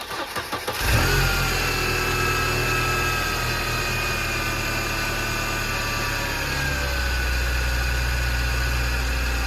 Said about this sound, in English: I will insert a little clip of what this SLK sounds like on starter.